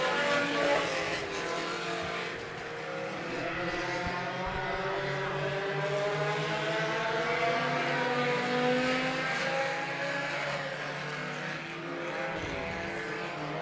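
Pure stock race cars roar around a track at the Dean Smith Memorial, engines droning and shifting pitch continuously at moderate distance with no voices.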